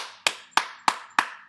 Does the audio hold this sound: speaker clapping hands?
yes